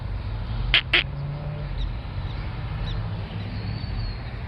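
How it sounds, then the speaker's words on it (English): A duck outdoors gives two quick, loud quacks close together, then a few faint calls over a steady low rumble of wind or distant traffic. "That'd be a duck."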